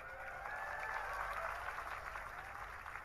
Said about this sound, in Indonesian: Tepuk tangan semuanya, keren.